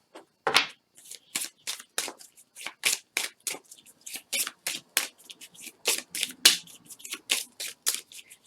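Oracle cards for a reading are shuffled by hand, producing a long run of crisp, papery riffling slaps in a quick, uneven rhythm, close and clear with no voices.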